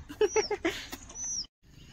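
A puppy gives a quick series of short, high whimpers and squeaks, close and fairly faint, followed by a longer thin whine before falling quiet.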